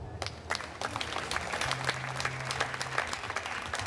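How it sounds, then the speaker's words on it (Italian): Sustained applause from a crowd at an outdoor evening concert in a town square in Jesolo, Italy, a dense wash of clapping throughout, with a faint low tone humming underneath. "vi chiedo un forte applauso"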